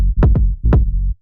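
A saturated deep house kick and bass line in a classic deep house production, with two punchy kick hits over a sustained, driven low bass that thickens the low end.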